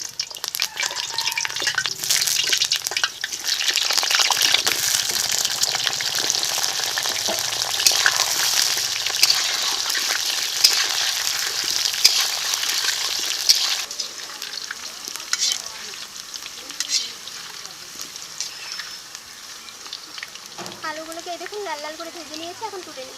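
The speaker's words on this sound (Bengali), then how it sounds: "এই তেলে এখন আলুগুলো ভেজে নিচ্ছি" Potatoes fry in mustard oil in a kadai, a loud, steady sizzle and crackle with stirring that eases after about fourteen seconds, as a voice speaks faintly near the end.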